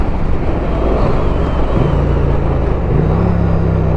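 A 2020 Triumph Street Twin motorcycle rides along with a steady, loud engine drone and wind rush, the engine note shifting pitch twice as revs rise toward the end.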